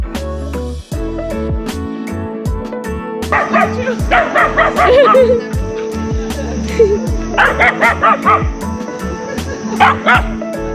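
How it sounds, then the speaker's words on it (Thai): Dogs barking and yipping in New York City near Central Park, a rhythmic run of close, loud barks mixed with higher whimpering yelps and squeals, going on steadily for about ten seconds. "หมาตัวนี้เห่าหมาลูกปั้นครับ"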